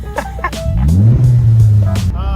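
A race car's engine rumbles close by in a junkyard, its low drone rising and holding steady for a couple of seconds as it moves, with brief voices and clatter over the top.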